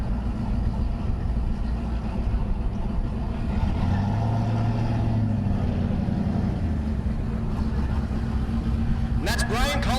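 At a Kansas dragstrip, a first-generation Camaro and a 1974 Duster rumble steadily at idle with low engine drone and occasional revs, while an announcer talks over the continuous motor noise.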